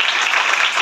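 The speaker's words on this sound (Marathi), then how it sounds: "ठिकाणी सर्वांचं टाळ्या वाजवून स्वागत करतो।" Dense, loud applause from an audience at a school award felicitation, a brief continuous burst of clapping with no talk over it.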